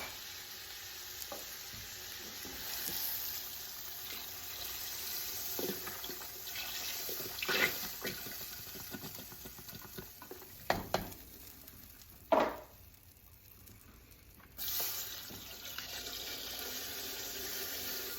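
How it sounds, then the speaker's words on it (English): Broth pours into a hot soup pot of chicken and rice, making a continuous watery rush and sizzle with a few louder splashes and knocks, close by and without talk. "All right, we're gonna add our broth."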